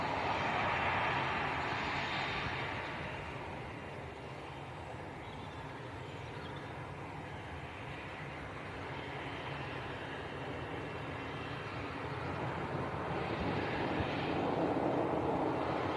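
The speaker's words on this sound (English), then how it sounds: "Swinging it round for a very nice Citation, just taxiing out." Citation business jet in a jazzy colour scheme taxiing out at Leeds Bradford Airport, a steady broad engine whine and rumble held at moderate distance throughout, swelling slightly at the start and end.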